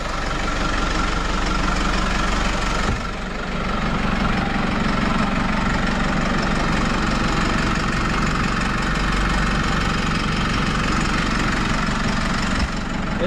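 A 2020 Case IH 75C tractor engine idles steadily nearby, a loud, even diesel rumble with a faint knocking rhythm running unbroken throughout.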